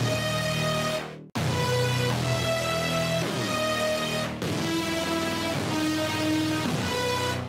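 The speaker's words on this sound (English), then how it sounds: "I started with this synth that is playing basically" Vital synth in FL Studio playing the bass notes of a trap beat, a buzzy saw-wave line an octave down shaped by an envelope, sustained notes changing pitch in steps, loud and upfront without speech.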